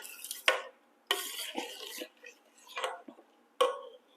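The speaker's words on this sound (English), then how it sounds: "I'm just going to stir this up." Shrimp creole being stirred in a pot with chicken bouillon added, giving a few separate scraping and clinking bursts of a spoon against the pot, fairly close and moderately loud, with short gaps between them.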